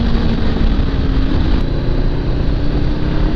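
Triumph Street Triple motorcycle held at full throttle on a country road, a loud, steady engine roar with wind noise running without a break for a few seconds.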